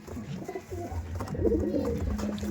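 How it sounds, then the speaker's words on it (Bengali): Star Kalanka pigeons coo in a low, throaty rolling series, several birds close by with overlapping calls that swell louder toward the end, no talking. "জাস্ট পায়রা দেখুন"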